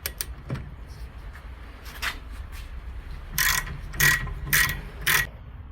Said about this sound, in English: Got to get this nut off. It's a 16mm.